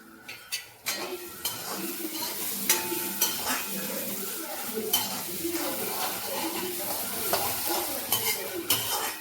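A spoon repeatedly scrapes and knocks against a pan of okra masala over a steady sizzle, in uneven stirring strokes, with faint talk in the background.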